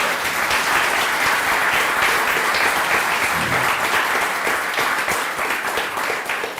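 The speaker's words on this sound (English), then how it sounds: "we all need to give her a huge round of applause" A large audience applauds steadily at an organ donor awareness launch event, a dense, even wash of clapping that holds strong for several seconds with no voices over it.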